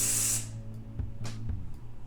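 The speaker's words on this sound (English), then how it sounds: "And then just spray right at the root." A strong burst of hair spray aimed at the roots of natural curly hair hisses for about half a second, then fades, followed by a few soft clicks and taps.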